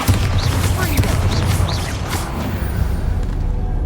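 Bombarda blasting spell in Hogwarts Legacy going off amid dense game combat noise, a loud continuous rumble of blasts and crashes with low booms under occasional voice chatter.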